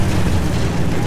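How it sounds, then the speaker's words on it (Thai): An explosion in the video game Battlefield 1 gives a loud, sustained low rumbling boom lasting about a second, with no speech over it. "โอ้ระเบิดด้วย"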